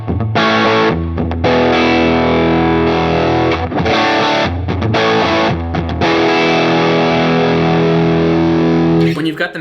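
Heavily distorted electric guitar through an HX Stomp as the amp bias control changes, playing loud, sustained chords with brief pauses between phrases, thick and saturated in tone.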